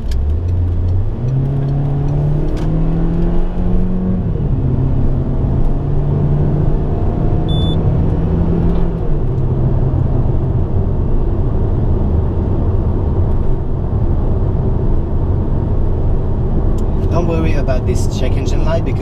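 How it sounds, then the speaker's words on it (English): A 2011 Peugeot RCZ with the 1.6 THP turbo engine accelerates at full throttle from inside the cabin, the engine note climbing through gears with shift dips and a steady loud road and engine rumble. "So now we're gonna go with a quick acceleration,"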